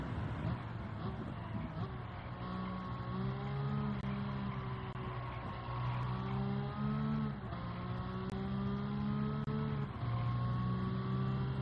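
Race car engine in Gran Turismo 7 during a Super Licence challenge, a loud sustained tone that rises through the gears, dips sharply under braking and climbs again, continuous and close.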